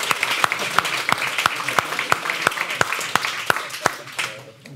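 An audience at a seminar on domestic violence applauds with a steady run of evenly spaced, distinct claps that fade out at the end.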